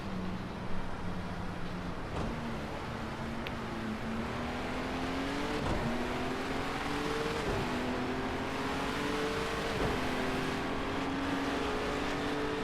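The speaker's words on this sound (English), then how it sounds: "GT4 cars are coming out of the pits right next to me." GT4 race cars leave the pits in a racing video game, their engines droning steadily and rising in pitch through several gear changes over a continuous roar.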